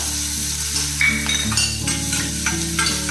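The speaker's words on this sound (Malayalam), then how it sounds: "ഇതിൽ ഇനിയിപ്പോൾ ഞാൻ ഈ എടുത്തു വച്ചിരിക്കുന്ന ഈ പടവലങ്ങയുടെ വിത്തുണ്ടല്ലോ അതിട്ട് കൊടുക്കാം" Snake gourd seeds frying in oil in a pan, with a loud continuous sizzle and repeated stirring scrapes of a utensil across the pan.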